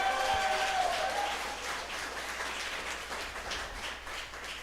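A church congregation breaks into applause, a dense wash of clapping from many hands that starts strong and slowly softens, heard from a distance within a large room.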